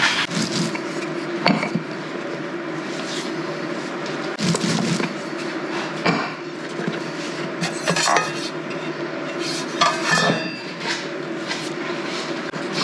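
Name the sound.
scallion pancakes being set down on a plate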